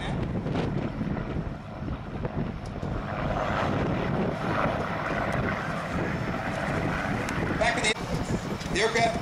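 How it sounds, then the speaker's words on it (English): A 1943-built North American SNJ trainer belonging to the Commemorative Air Force drones past at an airshow, its propeller engine a steady rumbling roar mixed with wind noise on the microphone. "Jim McGarvey in an extended trail formation, also flying an SNJ built in 1943"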